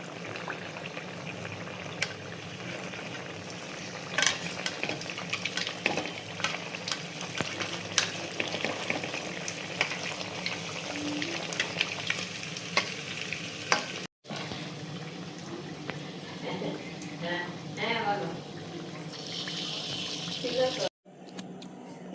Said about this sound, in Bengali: এইভাবে আমি আস্তে আস্তে ভেজে নেব সব।